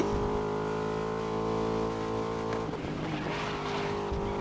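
A race car in GRID (2019) laps Brands Hatch at close to 200 km/h in sixth gear. The engine holds a loud, steady high-revving drone, with a brief tire scrub partway through.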